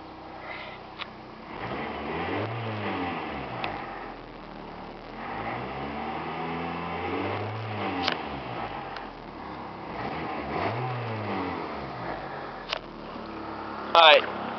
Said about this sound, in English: now let's go ahead and see how she revs.